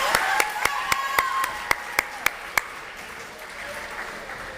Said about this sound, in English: I think we need to give them another clap.